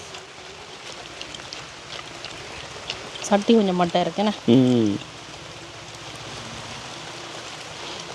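Heavy rain pours steadily in a village, a constant hiss that continues throughout while someone speaks briefly in the middle.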